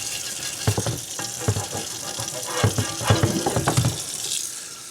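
Hot tap water splashes over a cast iron pizza pan being rinsed in a laundry tub, a steady hiss of running water with irregular scrubbing clatters and knocks.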